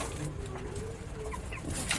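Healthy chickens cluck softly in a sunny coop while scratching, a few low clucks close by over steady background noise.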